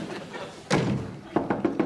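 Knuckles knock on an office door: a heavy thump, then a quick run of four lighter raps, close and clear over room noise.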